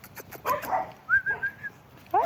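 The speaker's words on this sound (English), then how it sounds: "Hey, little puppies, y'all so cute." Puppies close by, giving a few short barks, then high whimpers and whines in brief bursts with pauses between them, with no talk over them.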